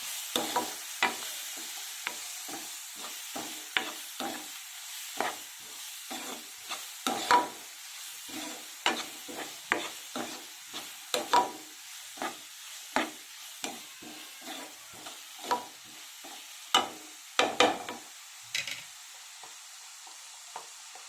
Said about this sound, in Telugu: ఒక మూడు ఆనియన్స్ కట్ చేసి పెట్టుకున్నాను మీడియం సైజ్ ఆనియన్స్ ఇప్పుడు బాగా ఫ్రై చేసుకోవాలి